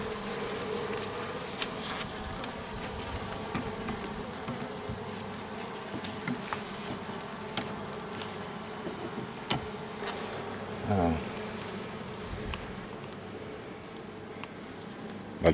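Honeybees buzz around an open beehive at an apiary, a constant close drone of many insects with occasional louder passes and soft knocks, and no talk.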